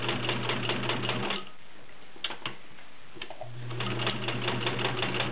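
A Kenmore Model 1601 sewing machine stitching through three layers of leather, a fast steady mechanical rattle that stops briefly for a pause with a few clicks, then resumes at full speed.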